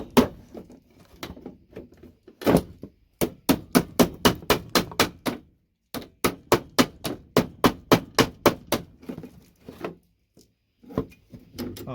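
A hammer strikes a tool set on VGA connectors, breaking them apart for gold recovery: quick, sharp, evenly spaced metallic blows in two long bursts, close and loud, with a few lighter taps and pauses.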